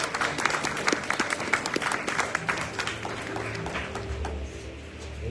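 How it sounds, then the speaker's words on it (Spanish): A church congregation claps steadily for over five seconds, a dense and fairly loud round of applause with a few voices faintly mixed in as it tapers slightly toward the end. "Lo recibimos con un aplauso"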